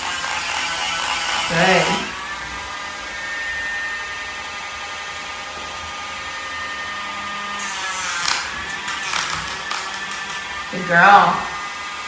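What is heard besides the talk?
nail dremel grinding a Samoyed's nails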